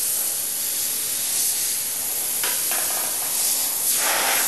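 Continuous airy hiss of a CFX airbrush spraying, steady and close, with slight shifts in intensity as the flow changes.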